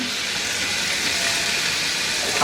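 Spices and diced tomato fry in a pan for pasta, giving a steady, close hiss of sizzling oil that holds evenly without pause.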